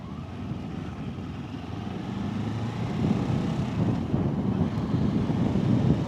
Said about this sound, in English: I want to get out of this wind now